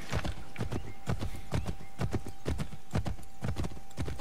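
Stolen horse galloping in Assassin's Creed III, a fast steady run of hoofbeats on hard ground, close and loud, with the rhythm holding throughout and no talk over it.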